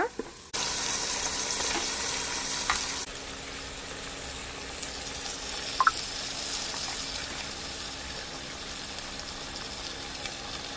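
Chicken gravy masala frying in a pan for a Mangalore-style curry, a loud hiss that drops partway through to a quieter, steady sizzle with a couple of brief clinks, heard alone.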